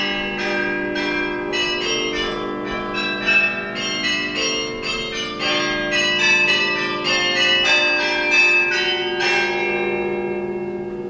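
Many carillon bells chime in quick succession, overlapping into a bright, ringing melody whose tones hang and shimmer together.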